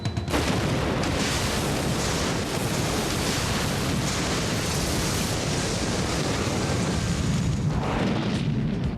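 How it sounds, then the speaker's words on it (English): A dense, sustained roar of a large film explosion from The X-Files: Fight the Future (1998), rumbling heavily and evenly without fading for several seconds. "it was a really spectacular explosion"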